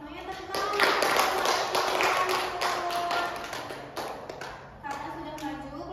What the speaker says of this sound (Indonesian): Semuanya tepuk